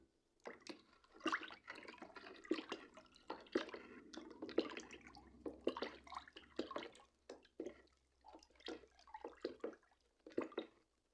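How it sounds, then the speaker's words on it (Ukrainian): Chicken manure being stirred into a bucket of water gives irregular sloshing, splashing and dripping bursts in an uneven rhythm, close and fairly quiet with brief pauses between strokes. "починаємо розмішувати його."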